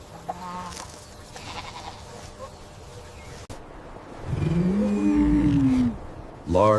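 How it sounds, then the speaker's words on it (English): A goat calls loudly in the second half, a drawn-out, wavering bleat close to the microphone after a quieter farmyard stretch, then a short second call right at the end. "This is a goat."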